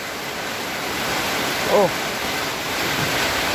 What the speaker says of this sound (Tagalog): Biglang lumakas ang hangin at napakalakas ng ulan.